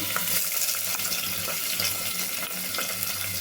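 Onion pieces fry in hot oil for mushroom biryani, a steady, close sizzle with a watery hiss and faint clinks, running throughout without speech.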